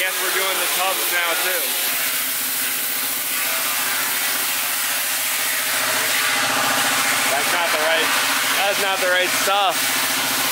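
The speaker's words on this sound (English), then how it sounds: "Making quick work of it with the mini DA." A mini DA sander works over the engine bay of a 240SX drift car, a steady whirring rub with shifting pitch, joined by intermittent higher squeaks, running continuously at close range.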